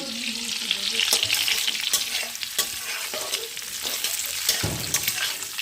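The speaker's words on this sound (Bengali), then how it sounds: "আমি কিন্তু দু মিনিট জাস্ট সেটা নেড়ে নেবো" Cardamom, cinnamon and cloves frying and being stirred in a pan for polao, a steady close-up sizzle broken by repeated scraping stirs and clatters of the spoon.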